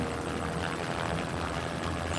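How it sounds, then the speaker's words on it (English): A cartoon helicopter whirs with a steady, low buzzing drone of rotor and engine, faint and continuous throughout the short stretch with no talk over it. "You've got a private helicopter?"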